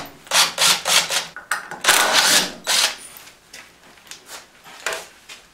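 The outside of a bowl made from scrap wood is shaped with repeated rough rubbing and scraping strokes in uneven bursts, close by, that loudest early on and quieter toward the end.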